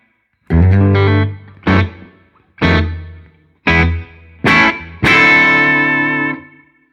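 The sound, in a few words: electric guitar played through a spring reverb effect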